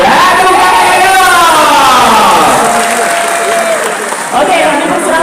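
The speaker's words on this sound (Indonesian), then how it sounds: "ya, tepuk tangan dong." Loud, sustained applause with cheering from a large crowd of volunteers at an Indonesian political rally, steady throughout with a slight dip before swelling again, voices mixed in.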